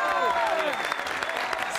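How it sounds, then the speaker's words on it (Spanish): Studio audience applause on Blue Radio, a Colombian radio show marking its seventh anniversary, a brief burst of dense clapping with a voice carrying over it. "¡Un aplauso!"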